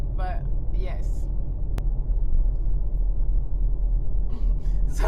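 A Mercedes-AMG GT 63 sedan cruises on a highway, its engine and road noise forming a continuous low rumble inside the cabin, with brief voice sounds near the start and end.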